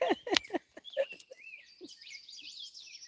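A few brief low sounds are followed by a thin, high, warbling bird call that twitters for about a second, fairly faint and close, with no talk over it.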